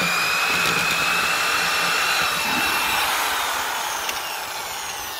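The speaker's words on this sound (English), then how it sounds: "the drill's hitting on this 2x4 right here" A powerful Hole Hawg drill boring into wood whines continuously at close range, a steady high-pitched motor drone that softens slightly near the end.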